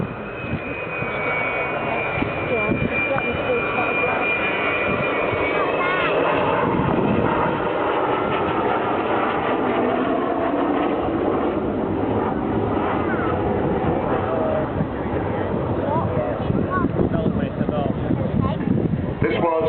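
An Avro Vulcan XM607 jet bomber flies past an airfield with a loud, continuous engine roar that swells and holds throughout, and a commentator talks over it.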